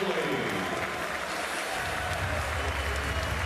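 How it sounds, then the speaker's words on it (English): A basketball arena crowd at a FIBA World Cup game gives sustained applause as a player leaves the court, a dense steady clapping with a commentator speaking over it. "this is nice for Slovenia, applauding Datome as well"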